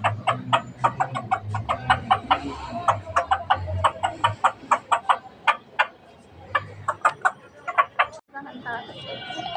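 Chickens kept in a cage on a home rooftop garden cluck in quick repeated bursts, close and fairly loud, with a low murmur of talk beneath.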